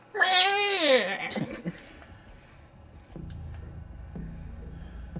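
A single drawn-out meow, voiced by a person imitating a cat while playing Doom, rising then sliding down in pitch, followed by quieter low rumbling background noise.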